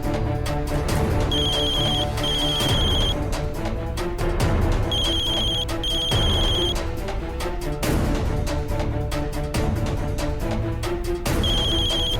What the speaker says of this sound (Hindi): दीदी फोन क्यों नहीं उठा रही अपना?